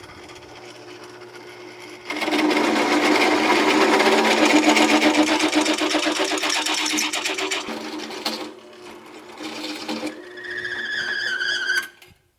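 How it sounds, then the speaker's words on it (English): A power drill with 5/8 and 3/4 inch bits bores out holes in a steel axle plate on a 1981 Ford F100, a loud, continuous whirring grind that rises and dips, pauses briefly and then resumes before cutting off. "All right, we got them drilled out."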